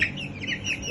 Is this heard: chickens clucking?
yes